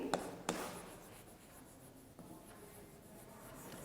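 A teacher writes the date during a class, the marker or chalk tapping twice sharply at the start, then soft scratching strokes, close and quiet in a hushed room with no talk.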